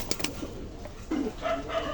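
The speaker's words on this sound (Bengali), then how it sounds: "এটা মাদি কবুতর" Highflyer pigeons in a pigeon shop in Khulna give a short, low coo close by, amid soft shuffling and faint background noise.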